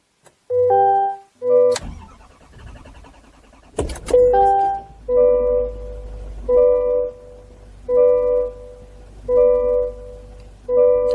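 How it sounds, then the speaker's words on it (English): A 2024 Chevy Silverado 2500HD with the L5P 6.6 Duramax V8 diesel cranks and fires with a short burst, then settles into a low idle while a dashboard chime repeats in regular pulses. "we'll go ahead and we'll try to start the vehicle back up"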